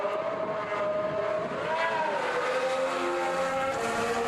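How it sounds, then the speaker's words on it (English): A 2026 Alpine Formula 1 car on track for its first run, its high engine whine rising and falling in pitch as it accelerates and shifts, heard at moderate distance over steady background noise. "that's the Alpine out on track for the very first time"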